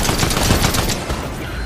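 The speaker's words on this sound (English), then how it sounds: "Is he shooting at me?" Rapid automatic gunfire in Fortnite, a dense continuous burst of shots filling the whole moment, loud and close with no voices over it.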